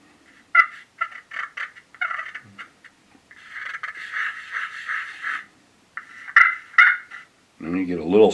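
A wet turkey box call scraped with a striker into a run of raspy turkey yelps in short uneven bursts, fairly loud and close, ending in a lower buzzing rattle.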